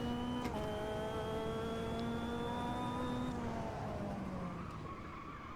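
A 300 HP Caterham race car without traction control, in the racing game Automobilista 2, locks its brakes. A steady, piercing tyre squeal rides over the engine drone for several seconds, then eases off toward the end.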